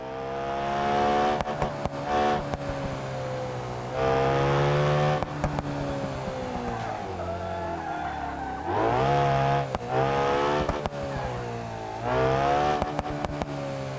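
Loud engine roar from a car in BeamNG.drive, a Ferrari-like Fauxrari, that revs up and down in repeated surges, with gear-shift drops and tire squeal, continuous with no talking.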